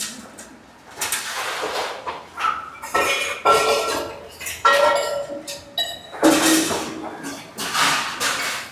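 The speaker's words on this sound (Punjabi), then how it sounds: "ਸੰਗਤਾਂ ਭਾਂਡੇ ਮਾਜ ਰਹੀਆਂ ਜੀ" Members of a congregation scrub and stack dishes at a communal temple kitchen, with steel pots, plates and utensils clattering and clinking in repeated bursts, and voices talking close by.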